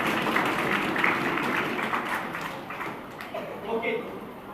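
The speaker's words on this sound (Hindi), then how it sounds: "तीनों टीमों के लिए एक बार जोरदार तालियां हो जाए." An audience applauds three teams at a school tech quiz contest, a moderate, continuous patter of clapping that fades slightly over a few seconds.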